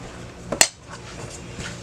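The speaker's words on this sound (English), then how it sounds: "Start mixing here. Getting all those good donut dough going here." Mixing donut dough and flour in a bowl, with a quick double clink of a utensil against the bowl in the middle of an otherwise quiet stretch of soft stirring.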